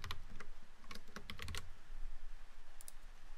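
Keys clatter on a computer keyboard as a password is typed, a few quick bursts of clicks up close followed by a pause and a couple more taps, with no talking.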